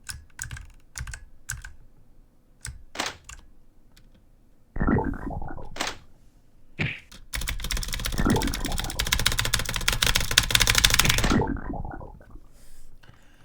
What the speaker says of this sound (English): I don't know if my Thocky keyboard is doing anything for you